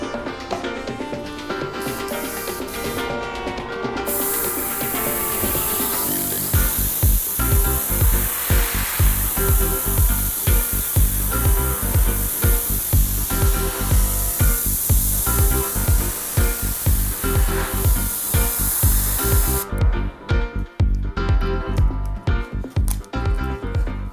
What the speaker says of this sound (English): So let's fill it in a spray gun and let's spray the shadow.